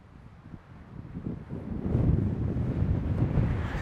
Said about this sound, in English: this is a very stiff headwind